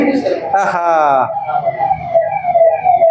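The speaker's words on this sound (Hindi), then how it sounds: "सायरन सुना ना?" A police siren passing outside wails, rising and falling steadily in the background while a person speaks loudly nearby.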